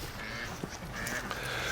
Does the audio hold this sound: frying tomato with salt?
no